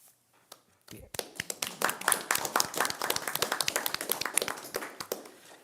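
A few people clap at a school board meeting right after a unanimous motion passes, sharp handclaps building into a brisk, fairly close round of applause that runs for several seconds in a quiet room.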